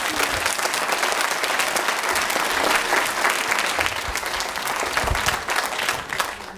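An audience at a school theatre performance in Langogne claps steadily, a dense wash of many hands keeping up at even strength before easing slightly at the end.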